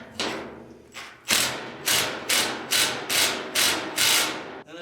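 Straight screwdriver turning a bolt on an old trailer, a run of evenly spaced loud scraping grinds with short gaps, close by.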